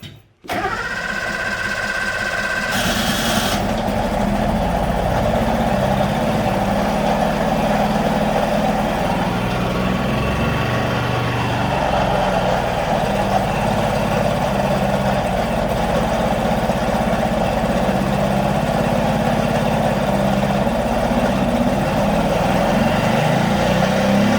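An old Suzuki engine that has been sitting for a long time and smells flooded idles steadily after starting, a loud, continuous low rumble running unbroken close to the microphone with no talk.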